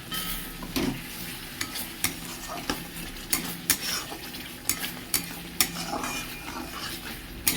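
Spice paste for a mixed-vegetable curry with jackfruit and pumpkin being stirred and fried in a pan, with a steady sizzle and repeated sharp clinks and scrapes of a spoon against the pan close by.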